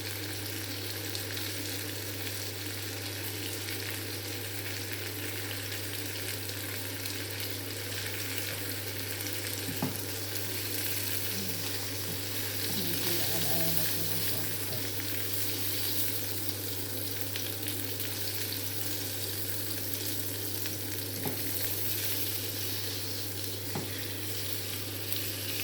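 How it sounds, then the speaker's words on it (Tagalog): A pot of sopas soup with lemon heats on the stove, giving a faint, steady sizzling and bubbling hiss under a constant low electrical hum, with a few soft clinks and no talking. "Yan, kumukulo-kulo na ng konti."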